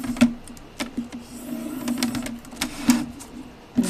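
A scoring tool runs down the edges of paper at half-inch spacing for a handmade notebook, making repeated close clicking taps over a steady low mechanical hum, rhythmic and fairly loud, with no voices.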